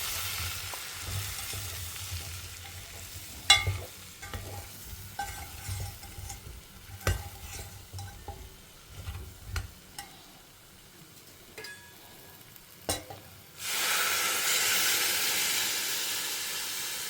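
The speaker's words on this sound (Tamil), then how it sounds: "கொஞ்ச நேரம் சின்ன வெங்காயம் நல்லா வதங்கட்டும்." Small onions sauté in a pan for a Tamil home-style curry, sizzling and crackling under intermittent spoon stirs and scrapes, ending in a louder steady hiss.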